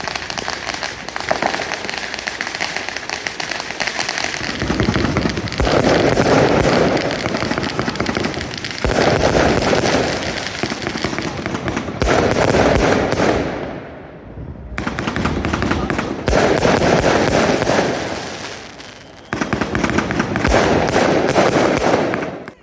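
City New Year's Eve fireworks and firecrackers exploding in long rapid crackling bursts, loud and close, with brief lulls between volleys.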